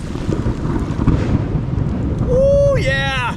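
A deep, rolling thunder rumble follows a lightning strike over a river, loud and sustained for a few seconds before a person's excited shout cuts in near the end.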